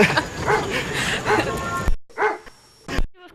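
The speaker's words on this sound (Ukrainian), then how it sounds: "Тут бігає собака, така страшна." A dog running loose outdoors barks several times, sharp yelping barks in short bursts separated by quiet gaps, fairly close and loud.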